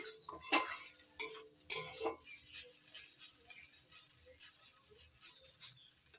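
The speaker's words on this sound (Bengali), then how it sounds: "পেঁয়াজ আর নারকেল কোড়াটা একটু ভেজে নিচ্ছি।" Onion and grated coconut frying in a pan while being stirred, with quiet sizzle under a cluster of metal spatula clinks and scrapes early on before settling to soft, intermittent stirring, close and without speech.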